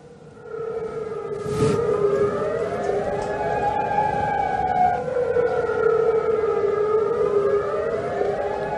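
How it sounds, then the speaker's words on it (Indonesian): Air raid warning siren near an air base in Jordan, a loud civil defense wail that rises and falls steadily, with a brief sharp burst of noise early on. "memicu aktifnya sirine peringatan serangan udara di sekitar pangkalan"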